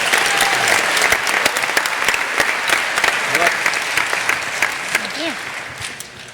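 At a school graduation, an audience applauds award recipients with loud crisp clapping and a few whoops or voices rising through it, the clapping thinning slightly toward the end.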